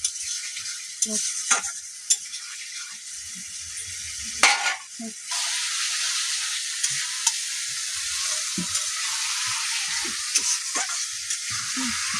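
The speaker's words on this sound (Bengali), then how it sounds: "আমার ভেন্ডি আলু কষানো হয়ে গেছে জিরে বাটা আদা বাটা দিয়ে।" Okra and potatoes frying with cumin paste and ginger paste in a pan give a steady, close sizzle, broken by a few sharp scrapes and clatters of stirring near the start.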